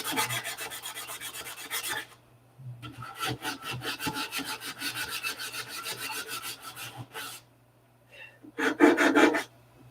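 Sanding by hand at a workbench: long runs of rhythmic rasping strokes, close and fairly loud, broken by a short pause and ending in a final, louder flurry of strokes.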